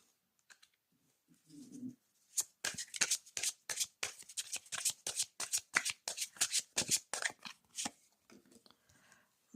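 Oracle of Mirrors cards being shuffled by hand, a quick run of crisp riffling flicks and soft papery slaps after a faint brief rustle, close and fairly quiet, with no talk.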